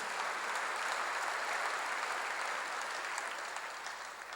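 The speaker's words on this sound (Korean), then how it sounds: "박수로 하세요." A church congregation claps together during a sermon, a sustained, dense wash of many hands at a steady level that begins to taper slightly near the end, with no talking over it.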